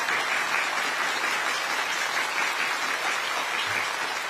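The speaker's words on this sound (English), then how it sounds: "listen to the clapping" Audience applause at China's military parade, a dense, even wash of clapping from a large crowd that holds steady without rising or swelling, heard at a distance.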